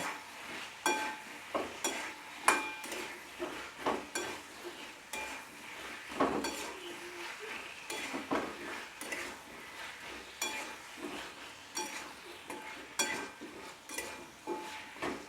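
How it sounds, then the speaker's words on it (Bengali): Drumstick pieces and cut potatoes are stirred with spices in a pan: a close, rhythmic run of scraping and clinking utensil strokes over a light sizzle. "এবার এটা আমি মশলার সঙ্গে ভালোভাবে মিক্স করে নেব"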